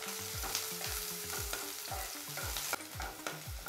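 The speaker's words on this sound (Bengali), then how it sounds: "পেঁয়াজ আর কাঁচা লঙ্কাটা একটু ভেজে নেব" Chopped onion and green chili fry in hot oil for a homemade potato samosa filling, a steady close sizzle broken by regular spatula scrapes and stirs against the pan.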